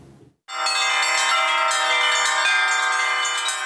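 After a brief quiet moment, church bells in Berezino, Belarus, burst into loud, sustained ringing at a bell-ringing festival, with rich overlapping tones and repeated strikes, filling the air.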